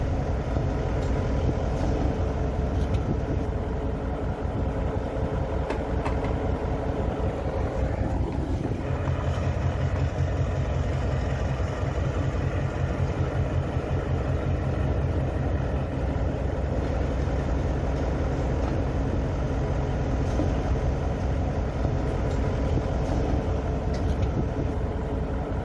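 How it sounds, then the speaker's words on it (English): Metropolitan Vickers Class 28 Co-Bo diesel locomotive D5705 rumbles steadily in a rail yard before departing with the Condor freight train, a continuous low engine drone with a brief shift in tone partway through. "In the yard we have D5705 Class 28 making final preparations to depart the yard with its special train, the Condor"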